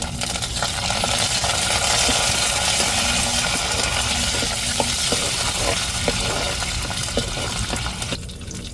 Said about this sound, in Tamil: கருவேப்பிலை சேர்த்துக்கிடுவோம்